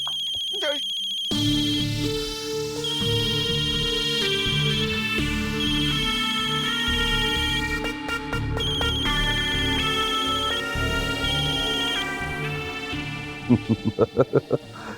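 A ringtone plays on a phone in a Pakistani TV drama scene, a steady electronic melody repeating for most of the time under music, with a few sharp taps near the end before it is answered.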